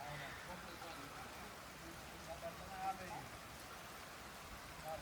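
Soft, steady patter of rain falling in the background, with faint voices speaking quietly over it.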